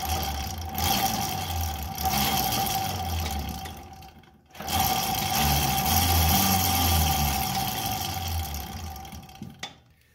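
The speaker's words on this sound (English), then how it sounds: "I'm gonna spin the tire on this other side." A go kart tire spins on a DIY chain tensioner with a steady mechanical whirring drone and a constant tone. It dips briefly midway, then runs on and fades out at the end.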